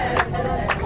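Church members clapping during a sung hymn at a park outing; two soft claps land about half a second apart, half-buried under singing voices and crowd babble.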